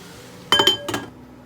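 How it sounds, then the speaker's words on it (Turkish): A lid clinks down onto a pot of sautéed spinach with two quick metallic rings, close by, then fades into quiet. "Tenceremin kapağını kapattım."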